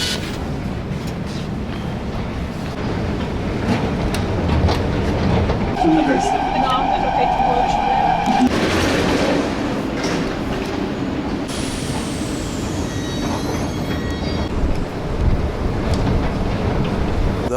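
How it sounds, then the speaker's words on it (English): A Warsaw metro train runs through the tunnel at a steady loud roar, joined midway by a tonal whine and a brief high hiss as it brakes and slows, with faint voices and wind rumble beneath. "That was the metro."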